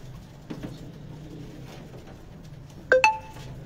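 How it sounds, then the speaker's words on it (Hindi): Pigeons on a rooftop loft give soft low coos, faint under ambient noise, with a couple of sharp bright clinks near the end. "ये है जी कबूतर, ये गठूरी कबूतर"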